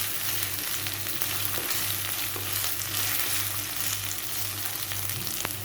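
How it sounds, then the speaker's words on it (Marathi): Chopped garlic sautés in a hot pan for a spicy prawn masala, giving a steady, close, unbroken sizzle and crackle of frying oil with no voices over it. "लसूण व्यवस्थित परतून घ्यायचं"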